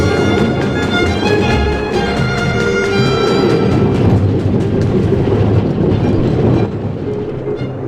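A tram rumbles past in the game Honkai Star Rail, a loud sustained rolling roar with rhythmic wheel clatter and a metallic ring, easing slightly toward the end, with no voices.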